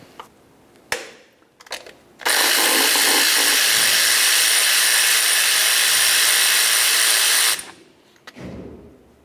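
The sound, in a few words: removing a 12mm bolt on a Pontiac Vibe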